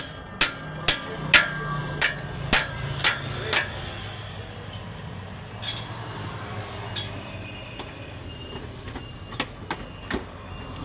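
Sharp metallic hammer blows on a chain block ring out, about seven quick evenly spaced strikes, followed by scattered lighter taps over a low background hum.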